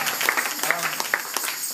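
A church congregation applauding, a dense spread of clapping mixed with voices singing or calling out, moderately loud and continuous through a short stretch.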